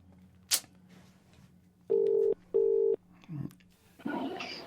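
Phone call tones on a line reaching voicemail: two steady electronic beeps of about half a second each, then brief rustle and noise, heard alone without talk.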